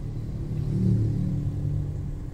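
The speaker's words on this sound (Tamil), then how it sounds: "பாருங்க ஃப்ரெண்ட்ஸ், ரொம்ப ஹெவி டிராஃபிக் ஜாமா இருக்கு" Cars in a heavy evening rush-hour traffic jam produce a low, continuous engine rumble that swells briefly as a nearby vehicle revs, with no voices over it.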